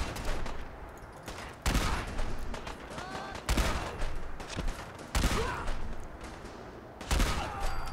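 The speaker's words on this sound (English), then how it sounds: "Kind of a pipe machine gun explosive shot." A pipe machine gun in Fallout 4 fires in about four loud, sharp bursts of rapid shots, with quieter combat noise and echo in the gaps between them.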